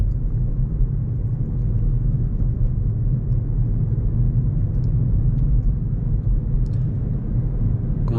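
Steady low road rumble inside a 2021 Peugeot e-208 GT electric car while driving, an even muffled drone with no engine note and no speech.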